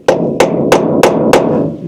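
A hammer strikes the handle of a small ratcheting screwdriver set in a dash trim screw on a Scout restoration project, five sharp evenly spaced metallic whacks close by.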